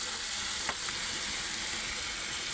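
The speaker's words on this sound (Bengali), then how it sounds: "ভালো করে আমি নাড়িয়ে নাড়িয়ে ভেজে নিই" Potato and white ridge gourd sizzle as they stir-fry in a pan, giving an even, continuous frying hiss with a couple of soft stirring scrapes close by.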